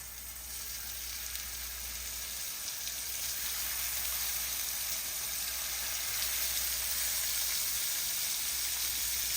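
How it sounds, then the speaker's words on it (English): Salmon fillets sizzle in a hot, oiled cast iron skillet, a loud, dense, continuous frying hiss that holds steady throughout with no voices. "Once the pan is nice and hot, we're going to add our salmon fillets"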